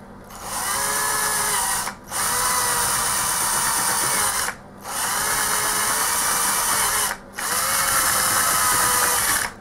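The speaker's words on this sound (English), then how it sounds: "with these step drill bits, they do cut very, very, very quickly once they get going" A power drill with a step drill bit whines steadily through three long bursts, each stopping briefly before starting again, loud and close.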